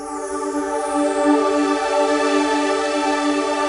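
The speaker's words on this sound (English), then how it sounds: "This is my shimmer pad." Shimmer pad preset on a Roland Fantom synthesizer: a sustained, evenly held chord with bright airy overtones, steady and continuous throughout with no talking.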